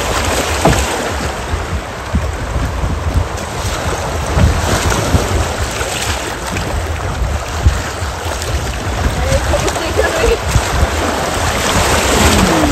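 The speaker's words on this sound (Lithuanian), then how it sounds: "Kokios bangos" Water sloshes and splashes against a kayak in choppy river waves, with gusts of wind buffeting the microphone, loud and close.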